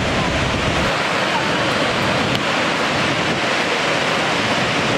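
Niagara Falls roars as a steady, loud, broadband rush of falling water, unbroken and close, filling the whole stretch without pause.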